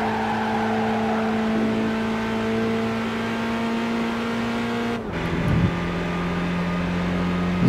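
A Mercedes 300 SL in Gran Turismo 5 accelerates at full throttle with a loud, steady engine drone whose pitch climbs slowly, then drops abruptly at a gear change before settling again.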